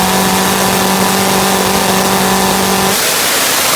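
A top fuel nitro drag motorcycle of about 2,000 horsepower launching at full throttle, a loud, dense roaring engine blast held steady for nearly three seconds before cutting off abruptly.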